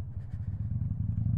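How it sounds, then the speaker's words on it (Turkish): A motorcycle being ridden, its engine giving a steady low pulsing drone with a rapid rhythmic throb, loud and close with no talking. "Motosikletin üzerine biniyorum."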